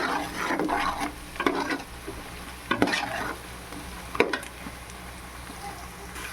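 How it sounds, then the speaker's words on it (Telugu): Cashews and onions fry in a pan for prawn biryani, a steady close sizzle broken by repeated bursts of stirring and scraping, with no voices. "జీడిపప్పులు కూడా వేయించుదాం ఇప్పుడు ఆ ఎర్రగడ్డ ఈ జీడిపప్పు కూడా ఎర్రగా వచ్చిన దాకా వేయించుకున్నాం"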